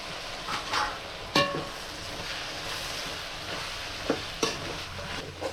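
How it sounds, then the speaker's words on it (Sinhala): Tomatoes added to clams frying in oil in a pan for a Jaffna-style dish, a continuous sizzle with a few sharp utensil scrapes and knocks. "හොඳට තෙලෙන් මැලුණාට පස්සේ තක්කාලි එකතු කර ගන්නවා අපි මට්ටි වලට"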